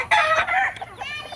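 A gamebird rooster lets out a single brief, close crow with a strained, harmonic tone that fades at the end.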